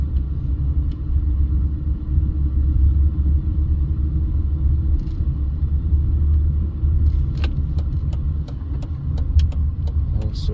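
A car drives along a street in Las Vegas, Nevada, with a steady, heavy engine and road rumble throughout. Several faint clicks and ticks come through in the second half, and no one talks.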